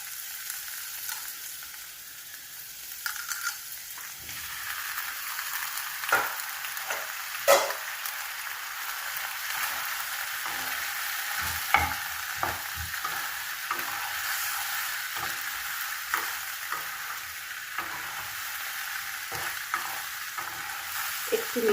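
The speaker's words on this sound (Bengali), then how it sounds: "এরপরে আমি সেদ্ধ করে রাখা পাস্তাটা এর সাথে মিশিয়ে দেবো" Vegetables and boiled pasta stir-fried together in a pan, a steady soft sizzle broken by repeated scraping stirs and clatters of the spatula, heard close with no talking.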